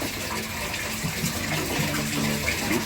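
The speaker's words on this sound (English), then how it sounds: "Just changing my siphon over" Steady gushing water from a fish tank siphon being changed over, a continuous loud pour and splash close up with no pauses.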